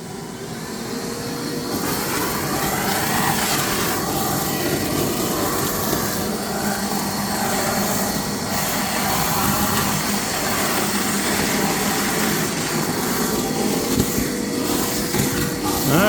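EGO 56V cordless wet/dry vac, model WDV0904 9-gallon, running steadily on its turbo setting: a loud, continuous motor roar and airflow whine holding even for the whole stretch, with no talk.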